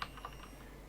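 A few soft, faint taps on a computer keyboard, scattered clicks over a quiet room hum.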